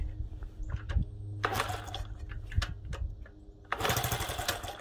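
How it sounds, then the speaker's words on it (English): A Honda Z50 motorbike is kicked over from cold without choke, producing irregular close engine bursts and sputters against a low running hum, with two louder rushing surges as it tries to fire. "I'm going to try starting it without the choke"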